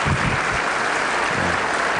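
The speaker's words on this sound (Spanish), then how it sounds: "ese aplauso es para el Ejército." A legislative assembly audience applauds the Army for two seconds, a dense, uniform wash of many hands that stays loud and unbroken from start to finish.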